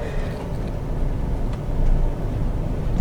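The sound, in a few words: three-cylinder car engine running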